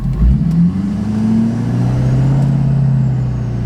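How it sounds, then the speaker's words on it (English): A Ford 6.7 Powerstroke diesel pickup does a brake stand with the rear locker engaged, its engine revving hard and holding a loud, sustained drone close by, with no voices. "Now we're gonna do a little brake stand and you'll see what I'm talking about."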